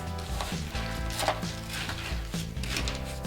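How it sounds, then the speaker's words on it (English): A spoon stirs chocolate truffle mixture in a pot on a stovetop at medium heat, giving soft, repeated scraping and knocking strokes at close range. "And start stirring."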